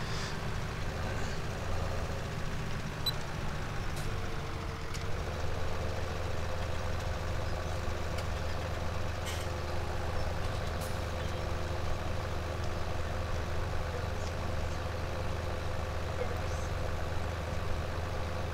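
Steady low engine drone of the most powerful tractor pulling a plough in Farming Simulator 17, a constant rumbling hum that holds at even loudness throughout with no talk.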